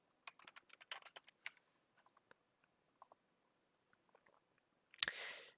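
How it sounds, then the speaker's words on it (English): A computer keyboard clicks in a quick burst of typing, close and quiet, then sparse scattered key taps, ending with a sharp louder click and a short hiss. "you can type the name that you want"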